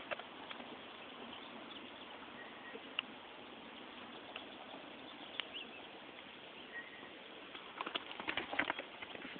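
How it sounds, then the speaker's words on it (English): Faint, soft hoofbeats of a stallion trotting in a round pen patter over a steady outdoor hiss, growing busier and clearer toward the end. "Look how cute his trot is."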